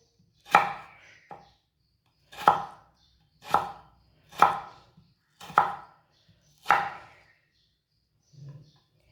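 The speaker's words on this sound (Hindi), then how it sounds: "तीनों आलूओं के इसी तरह पीस कर लेने हैं। इसी तरह काट लेना तीनों आलूओं को।" A knife cuts potatoes into long, thin pieces on a board, giving six distinct sharp chops at an even, unhurried rhythm, close and clear, with one softer tap at the end.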